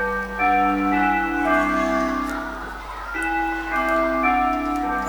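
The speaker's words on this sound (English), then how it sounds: "Excuse the bell." A bell ringing nearby with clear, sustained tones that fade and then strike again.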